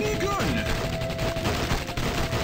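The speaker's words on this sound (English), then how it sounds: "Minigun." Rapid minigun fire from the Age of Zombies video game, a dense continuous burst of gunfire sounding steadily throughout, loud and up close.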